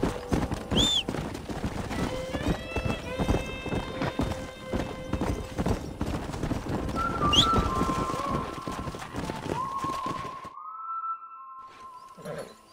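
Horses gallop in Red Dead Redemption, their hooves drumming in a fast, continuous rhythm under a sustained musical score, with a whinny near the start, before the hoofbeats fade and the music continues.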